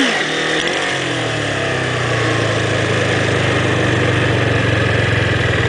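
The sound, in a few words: motorcycle engine revving during wheelie practice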